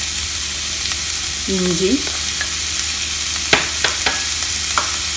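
Garlic, ginger and green chili sauté in a pan, giving a steady sizzle. A spoon stirs and scrapes the pan with several sharp clicks and clanks, and one short word is spoken.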